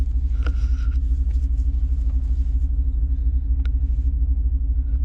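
A 2009 Hemi 1500 engine idles steadily at about 500 RPM, a loud low throbbing rumble with a slight rhythmic pulse, a few faint clicks over it and no talk.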